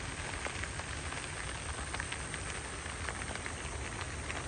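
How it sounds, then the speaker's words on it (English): Steady rain patters on surfaces in a garden in a continuous, even hiss, fairly quiet and with no voices. "I do like the rain"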